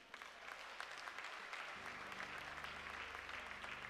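A church congregation applauding to acclaim the Lord, a steady dense clapping at moderate distance that swells slightly and continues throughout, with a low hum of instruments underneath.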